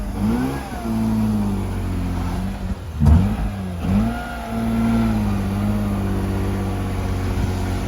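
Car engine revving up and down as it crawls over a bump with the right-side wheel spinning, a loud mid-pitched engine note that wavers and briefly dips with a thump, nearby and without talking.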